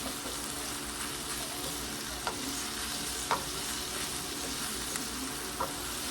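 Cut-up sausage pieces fry in a pan for a bean soup, giving a steady broad sizzle with a few sharp pops and spatters, close and alone with no talking.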